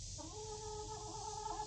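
Hens in a hen house bedded with shredded pine give a steady run of soft, close clucking and low chatter over a constant background hiss.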